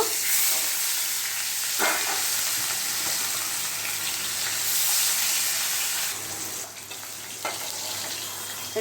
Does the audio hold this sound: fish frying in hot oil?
yes